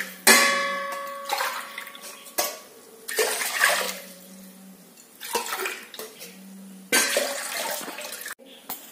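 Water is poured into a pot on a gas stove for a herbal cough-and-cold home remedy, in four separate splashing bursts, close and fairly loud, with short pauses between.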